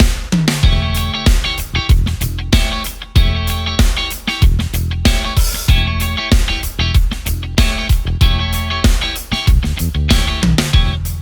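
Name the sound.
funk guitar rhythm pattern, exercise 2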